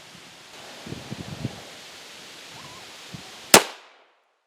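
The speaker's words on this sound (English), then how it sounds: "We'll take a shot out of the M&P first" A single sharp, loud pistol shot from an M&P firing 9mm solid copper rounds into Level IIIA hybrid armor, close by, ringing out briefly after a few soft handling rustles and thumps.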